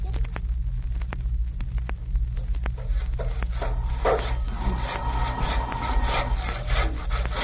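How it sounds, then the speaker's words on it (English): An old-time CBS radio special sound effect of Santa's workshop: quick scattered hammer taps ring out over rubbing, rasping woodwork noise and a steady low hum, busy and close throughout. "I can just hear the hammers going, the people scurrying back and forth."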